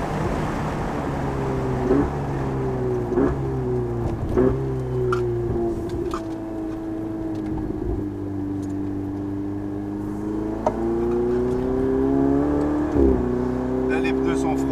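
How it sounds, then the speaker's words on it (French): A Ferrari 488 Spider engine hums and swells through a drive, with several short throttle blips during downshifts rising above a steady drone, heard from inside the car while someone talks throughout. "Les petits coups de gaz que ça met quand on rétrograde, c'est sympa"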